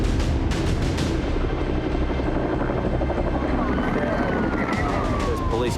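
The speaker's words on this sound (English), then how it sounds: "Pole Air is the police search and rescue helicopter" A police search and rescue helicopter over Bondi, its rotor chopping loudly and continuously with a faint siren wailing underneath.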